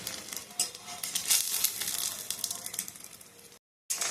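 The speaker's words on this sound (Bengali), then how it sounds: "এইভাবে প্রত্যেকটা ডিম আমি ভেজে তুলে নেব" An egg fries in a pan with a bright, crackling sizzle and a few soft utensil clinks, then a sudden cut to silence near the end before the sizzle resumes. No voices.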